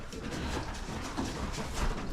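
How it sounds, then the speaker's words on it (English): White pigeons coo softly at a pigeon coop, low murmuring calls over faint background rustle, fairly quiet and close. "And this is my little pigeon coop that I have."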